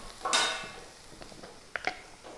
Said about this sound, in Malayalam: നമുക്കിനി തുറന്നിട്ട് അത് ഇളക്കാം